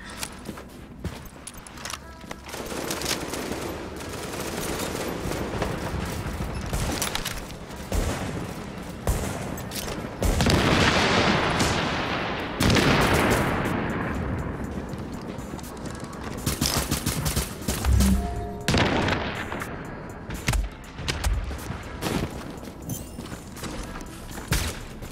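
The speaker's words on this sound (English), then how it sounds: "I'm getting shot from somewhere." Repeated bursts of automatic gunfire crackle through a firefight in the video game The Division, some shots close and loud, others trailing off, with rapid volleys recurring across the whole stretch.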